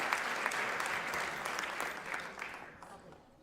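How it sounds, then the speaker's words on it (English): A crowd at a political State of the District address applauds with dense, sustained clapping that fades toward the end, fairly close and loud, with no talk over it. "let's give a round of applause to her"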